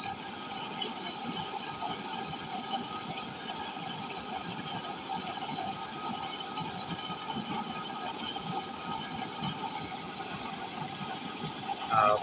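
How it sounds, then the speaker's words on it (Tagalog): A kitchen stove burner's flame roars steadily at full strength, a faint, even hiss that holds unbroken throughout with no voices over it. "Ayan, dire-diretso na ang ganyan kalakas na yung apoy niya."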